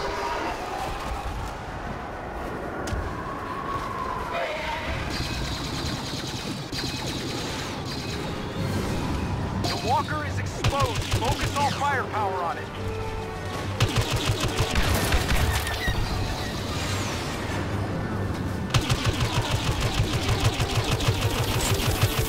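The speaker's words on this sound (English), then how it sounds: "Bombers are making their attack run." Bombers make an attack run in the Star Wars Battlefront beta's Walker Assault mode, with dense gunfire bursts and rolling explosions layered over a constant battle roar, growing heavier and more clattering toward the end.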